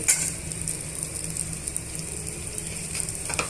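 Green and dried chillies sizzling in hot oil in a pan for a Telugu okra chutney, a steady close frying hiss with faint crackles throughout and no talk.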